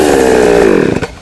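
Loud, close chainsaw cutting a small, heavily branched tree in a cramped spot, the engine whining steadily and then dropping in pitch as it winds down near the end.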